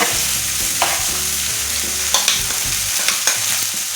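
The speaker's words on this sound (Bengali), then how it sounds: "মশলা ভালোভাবে কষানো হয়ে গেছে, দিয়ে দিচ্ছি চিকেন আর মটরশুঁটিগুলো।" Chicken and green peas added to fried spices in a pan, a loud close sizzle with repeated spoon scrapes and stirring knocks, no talk.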